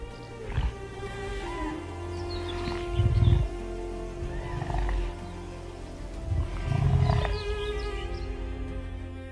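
Lions on the African savannah give a series of deep, rumbling roars and grunts in repeated bursts at moderate distance, with faint birdsong in the background.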